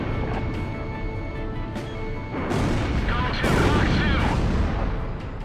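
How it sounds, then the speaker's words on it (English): Missile explosions on ground targets in the combat flight game Ace Combat Zero, heavy booms and crashing blasts swelling over a steady jet engine roar, loud and dense throughout. "Missile hit."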